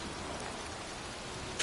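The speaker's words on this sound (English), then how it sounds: "here I am, standing in a cemetery in pouring rain" Steady heavy rain pours down in a cemetery, a dense continuous hiss with a brief louder splash at the end.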